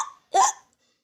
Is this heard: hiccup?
yes